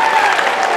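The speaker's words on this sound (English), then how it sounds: "give these guys a big round of applause" Audience applause at a junior bodybuilding pre-judging, a dense steady wash of clapping filling the short moment without a break.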